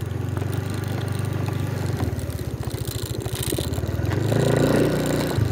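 A Rusi Flex 125i scooter engine cranks repeatedly without catching, a steady low rhythmic churning of the starter that stutters and swells louder near the end, close by with no talk.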